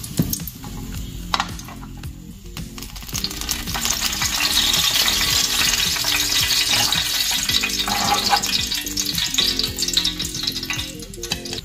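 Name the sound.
food frying in oil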